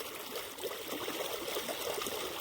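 Irrigation water from a pump running into a groundnut field, a steady close rush and trickle of flowing water with faint gurgles, continuous and even throughout, no voices.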